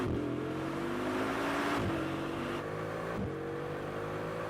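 A Bugatti Chiron engine drones loud and steady under hard acceleration, with sustained tonal whine stepping through gear changes and a brief dip suggesting wheelspin, heard from a distance without talk.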